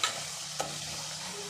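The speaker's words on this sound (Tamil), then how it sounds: "வெங்காயத்தை நல்லா பொரிய விட்டுருங்க" Steady frying hiss from onions sautéing in a pan with one brief scrape or stir partway through, close and fairly quiet, no voices.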